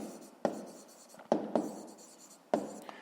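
A pen writes on paper in close, scratchy strokes, with several sharp taps where the pen touches down, spread over a few seconds with no talking.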